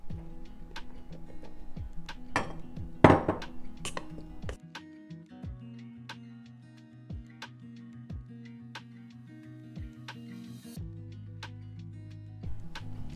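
A spoon stirs salt and wheat flour into donut dough, giving sparse light ticks and clinks against a bowl with a louder scrape partway through. The sounds are close but faint, over a low background hum.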